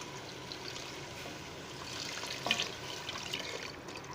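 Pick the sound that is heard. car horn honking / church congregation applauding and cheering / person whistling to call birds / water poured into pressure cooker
water poured into pressure cooker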